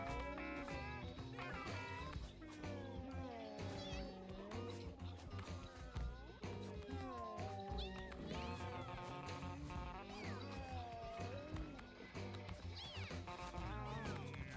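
Many cats in the video game Mewgenics meow over a busy backdrop of game music, overlapping meows repeating throughout at a steady loudness.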